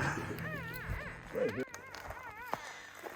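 Odie, a dog at a mountain ranch, whimpers and whines in short rising and falling yelps near the listener, with a little background talk at the start.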